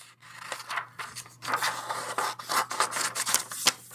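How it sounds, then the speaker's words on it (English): Small scissors snip through a paper coupon from a 1953-1954 Lionel Trains printing kit, a close series of quick crisp cuts and rustling paper strokes in an otherwise quiet room. "I'm going to take my little scissors, okay, and we're going to cut this out"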